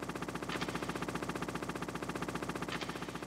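Rapid automatic gunfire from a Hind-D attack helicopter in the Metal Gear Solid video game, a dense, even burst of repeated shots running without pause, moderately quiet and alone.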